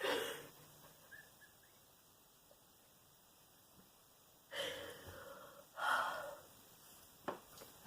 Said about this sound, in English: My husband's snoring over here.